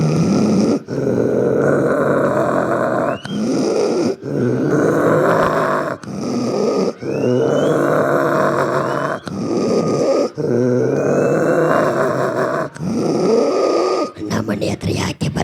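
A man imitates a bitten dog picking a fight, voicing loud, close growls and snarling grunts in repeated bursts separated by brief gaps, with rising yelps in between.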